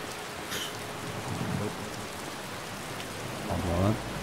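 Rain pours in Skyrim Special Edition, a continuous hiss of falling drops with a deep rumble of thunder near the end, and a voice speaks briefly over it.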